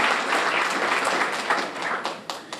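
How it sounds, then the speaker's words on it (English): An audience applauds the governor, Mike Beebe, at an award presentation for a STEM academy and conference center, with steady dense clapping that fades toward the end. "Let's have another round of applause for our governor, Governor Mike Beebe."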